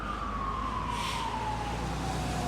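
An ambulance's wailing siren sounds continuously in Antalya, its pitch slowly falling as it carries over steady traffic noise, fairly loud and close.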